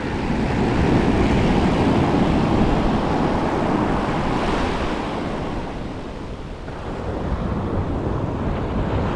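Sea waves at Parikhi beach in Odisha, a loud continuous roar of surf mixed with heavy wind buffeting the microphone, briefly easing before surging back.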